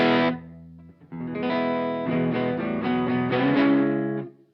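A Silvertone 1446 electric guitar on its middle pickup position plays through distortion and chorus effects, one chord struck and cut off, then a sustained run of thick, shimmering chords ringing close and loud before ending abruptly.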